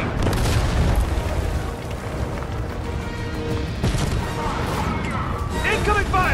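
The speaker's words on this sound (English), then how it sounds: "Incoming fire!" Tank fire in the Fortnite video game sends heavy booming explosions through a busy battle, with a loud rumbling mix and voices speaking over it.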